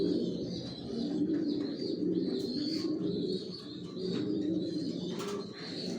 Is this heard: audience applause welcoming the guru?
no